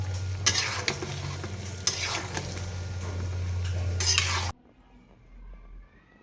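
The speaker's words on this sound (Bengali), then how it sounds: "জলপাইগুলোকে আস্তে আস্তে নেড়েচেড়ে দিচ্ছি নিচ থেকে, নাহলে নিচে লেগে যাবে।" Olives for a pickle stirred in a hot pan, with steady sizzling and repeated scraping strokes of a spoon against the pan bottom for about four seconds, then a sudden drop to near quiet.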